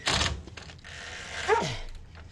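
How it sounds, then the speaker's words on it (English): A dog barks once sharply up close, followed by a rising whine and softer yips over quiet background noise. "Non-stop barking today."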